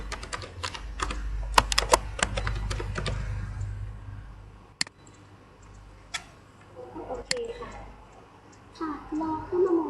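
Keys clatter on a computer keyboard in quick bursts of typing, then a few scattered single taps, with faint room noise and soft movement underneath.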